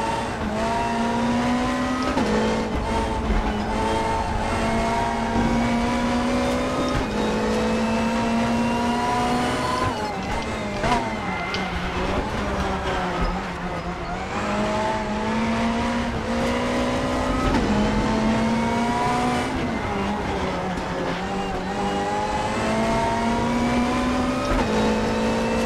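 A race car engine in the Raceroom racing simulator game sustains a loud, continuous drone. The pitch climbs and drops through gear changes, with tyre noise mixed in and no voices.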